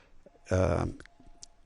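Mouse clicks on a home button in share statistics software, a few short sharp taps alongside a brief tone and someone speaking.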